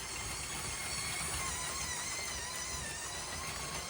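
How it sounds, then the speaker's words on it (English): A motorized model Orient Express train runs along its track, giving a steady, faint mechanical whir with light rolling rattle that holds evenly throughout, with no voices. "And you can see the train moving."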